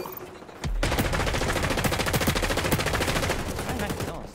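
A submachine gun in XDefiant fires a long, loud, rapid burst of close automatic shots after a sharp opening crack, then trails off into quieter game background.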